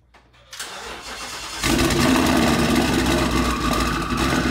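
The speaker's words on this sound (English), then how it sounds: "But here's a true cold start." A twin-turbo Ford Mustang GT is cold-started: brief quiet cranking, then the engine catches and holds a loud, close, rumbling fast idle.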